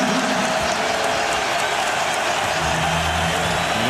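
Rockets home crowd in a Houston basketball arena roaring and jeering after an air ball in a 2009 playoff game against the Lakers: a dense, loud, sustained crowd wash with no clear pauses.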